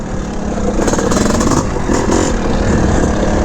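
A 1981 Honda CR450R Elsinore two-stroke motocross bike lugs at low RPM, its engine thumping loud and near with a rough, deep throb that swells slightly mid-way.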